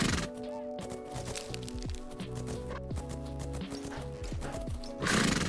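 A horse in a horse riding video game whinnies loudly over rhythmic hoofbeats, the neigh repeating with a galloping clip-clop beneath and a short rushing burst at the end.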